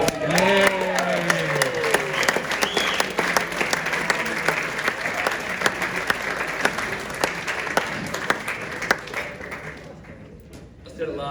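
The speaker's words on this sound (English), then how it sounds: "Yeah, round of applause to Gary." Sustained applause from a crowd at a football club presentation night, with dense clapping and a few voices and whistles, fading slightly toward the end.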